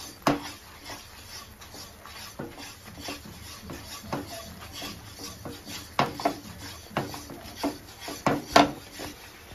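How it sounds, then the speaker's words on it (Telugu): Gram flour and ghee stirred in a pan for soft Mysore pak, a wooden spoon rasping and scraping across the pan bottom in repeated strokes that grow louder and sharper toward the end, with no talking. "మిక్స్ చేయండి"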